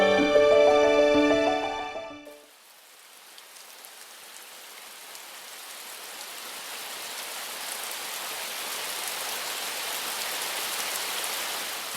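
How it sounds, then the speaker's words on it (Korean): Steady rain falling on a corrugated tin roof, an even, soft patter that builds slightly after a brief burst of music at the start, with no talk. "빗소리가 잔잔하게 들립니다."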